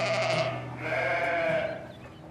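Caussenarde ewes on a Quercy sheep farm bleating, two or three drawn-out nasal calls in quick succession, close and clear with no talking.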